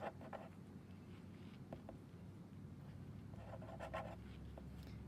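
A pen scratches out math intervals on paper in soft, faint strokes, with short bursts of scribbling over a quiet room hum.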